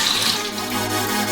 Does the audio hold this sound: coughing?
no